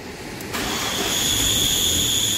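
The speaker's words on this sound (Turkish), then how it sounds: "Aracı çalıştır." Volkswagen car engine with a failed clutch release bearing starts up, a sudden rise at about half a second settling into a steady, loud idle with a high whining tone above the running engine.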